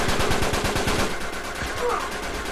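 A grenade goes off in an online shooter game, a loud burst of rapid crackling blasts and gunfire-like pops that fades into a rumbling tail, with no voices heard.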